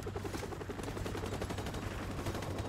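Automatic weapon fire rattles in rapid, continuous bursts during a Call of Duty 4: Modern Warfare Remastered mission on Veteran difficulty, with steady repeated shots at moderate distance and no speech.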